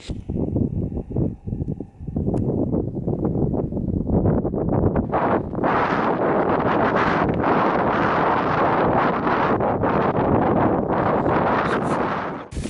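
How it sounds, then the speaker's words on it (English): Strong wind roars and buffets across a frozen lake at night, a loud continuous rush with gusty swells throughout. "It's mighty windy down here still."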